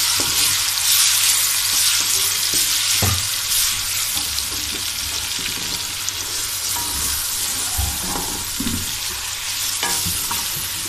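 Garlic paste sizzling and frying in a pan with taro pieces, a steady loud hiss with occasional stirring scrapes, close up and alone.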